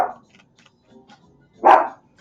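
A pet dog barks indoors in two short separate bursts, loud and close, with quiet gaps between them and no talking.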